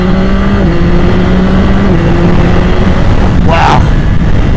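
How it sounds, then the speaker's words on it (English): A 2025 Yamaha R9 sportsbike with a CP3 three-cylinder engine revs hard with prominent induction noise, its steady rising and falling engine tones loud and close, ending in a brief sharp burst. "that engine making that signature CP3 noise. It's got that amazing induction noise on here."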